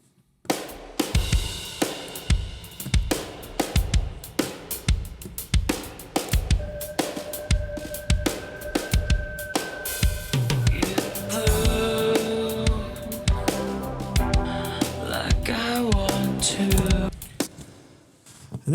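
A drum mix recreating a rock snare with room reverb, punchy repeated snare and kick hits in a steady groove with splashy cymbals, joined later by guitar and bass, loud and full.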